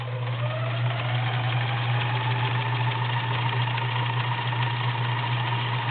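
A vintage Kenmore convertible sewing machine sews a feather stitch with a continuous, even motor drone and a low mechanical hum. The sound is close and holds steady through the whole clip with no talking.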